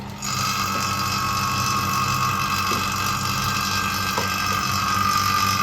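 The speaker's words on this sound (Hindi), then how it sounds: "अभी वैक्यूम हो रहा है" A vacuum pump evacuating a refrigerator system during gas charging runs with a steady, loud mechanical drone and faint rattling, continuous from start to finish with no speech.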